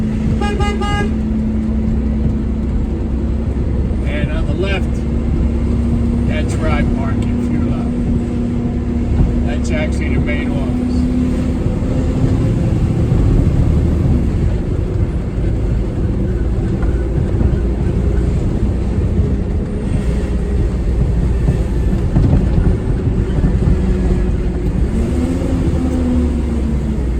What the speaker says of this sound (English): Check out the traffic.